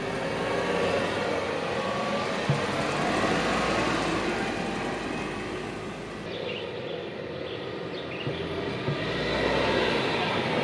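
A DFSK Glory i-Auto car, its engine rated at 147 hp at 6000 rpm, climbs a hill, producing a steady, loud engine and road drone that dips briefly midway and then swells again, with no voices over it.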